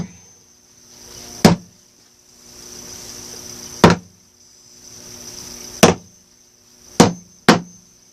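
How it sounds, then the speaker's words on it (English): Five sharp strikes of a small hammer on staples in a wooden canvas frame, close and loud, spaced a second or two apart with the last two quicker, against a faint background hum. "let's get a little hammer here"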